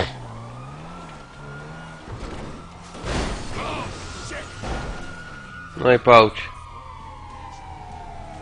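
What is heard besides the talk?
police car sirens chasing in Grand Theft Auto V video game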